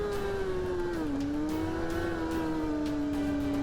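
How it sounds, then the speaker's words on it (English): A car on a race track straight, heard from on board, drops from a high engine note as it brakes hard, then settles into a steady, slightly lower drone, loud and continuous throughout with no voices. "Here I am coming down the straight, hitting 185 just before I grab the brakes at about the 100 metre mark."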